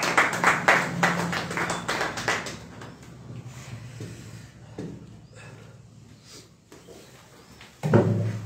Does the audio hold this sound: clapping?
yes